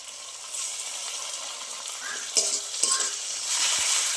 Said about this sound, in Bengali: আদা রসুনটা একটু ভেজে নেবো কাঁচা বান্ধাটা চলে যাওয়া পর্যন্ত